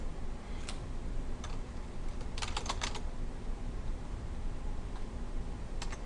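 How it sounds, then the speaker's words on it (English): Keys tapped on a computer keyboard in a few scattered bursts, fairly faint over a steady background hiss, with a quick cluster of strokes in the middle. "So the next thing we're going to type is self-guided tours."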